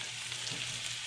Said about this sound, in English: our oil is up to temperature. Time to put in our marsh clams.